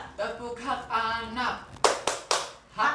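A group chants a children's rights clap chant with a few sharp, rhythmic hand claps between the spoken lines, the voices and claps close and clear.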